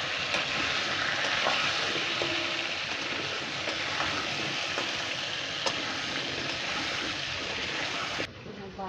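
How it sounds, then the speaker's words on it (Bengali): Potato and pointed gourd frying in a pan with turmeric and salt, giving a dense, steady sizzle with stirring clinks that stops abruptly near the end. "ওখানে পটল আর আলু ভাজা হচ্ছে"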